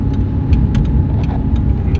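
A Porsche GT3 sports car passes on a rock-strewn Malibu road, its engine a loud close rumble that swells over two seconds.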